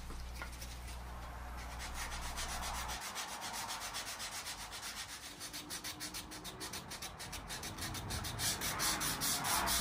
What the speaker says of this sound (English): I'll sand everything down with 320 grit sandpaper